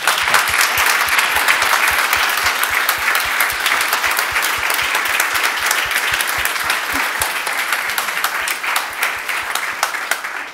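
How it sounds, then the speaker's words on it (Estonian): Large, loud round of applause from an audience at an investment club lecture on building a successful investment portfolio, a sustained thick wash of many clapping hands that fades slightly toward the end. "Teeme alguses suure aplausi"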